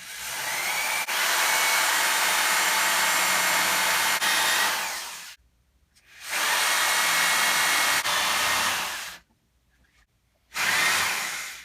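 A power drill with a spade bit whines loudly as it bores through wood, running in long bursts separated by brief pauses.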